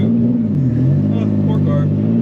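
Boosted, turbocharged Nissan 370Z accelerates hard from inside the cabin, engine note rising and shifting with turbo spool, loud and close throughout a couple of seconds.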